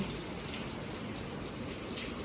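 Quiet, steady patter of evening monsoon rain falling, a soft continuous wash of drops with no voices.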